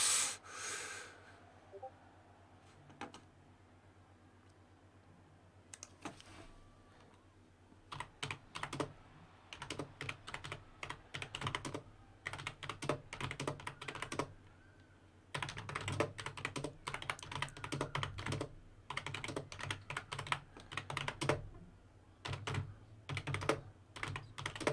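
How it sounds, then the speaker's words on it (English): Rapid, loud clicking of a computer keyboard being typed on in bursts, with short pauses between flurries of keystrokes and faint breathing in the background. "Sorry for my loud typing"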